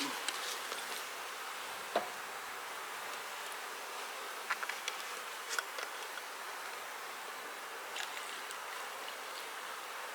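Steady buzzing of many honey bees at a syrup feeder fills the air, with occasional individual bees droning close by; no voices.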